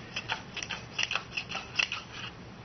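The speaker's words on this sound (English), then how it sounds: "just take your point punch and punch your triangles" A point punch cutting small triangles out of thick cardstock paper for insect pinning, heard as a quick series of about a dozen crisp, close clicking snips at an irregular rhythm with no talking.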